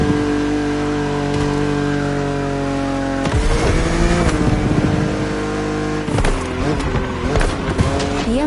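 BMW Z roadster driving in The Crew Motorfest, its engine droning steadily under game music, then revving and shifting with rising and falling pitch in the second half, loud and close throughout.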